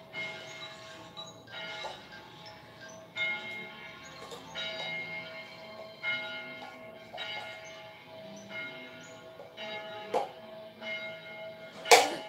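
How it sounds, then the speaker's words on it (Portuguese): A church bell strikes repeatedly in an even, slow rhythm, each ringing tone sustained and overlapping the next, heard at moderate distance with a few sharper knocks near the end. "Vocês estão escutando o sino da igreja batendo?"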